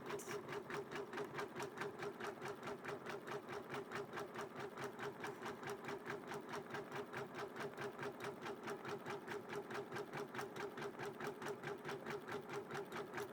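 A Janome MB-4 embroidery machine stitching a butterfly applique onto a quilt in the hoop, with a fast, steady mechanical chatter of needle strokes repeating evenly and close up, running alone without pause.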